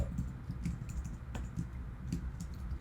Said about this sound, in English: that was talking and typing code